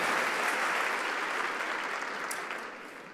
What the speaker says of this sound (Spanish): ¿Cuánto dar un aplauso al Señor por esta palabra?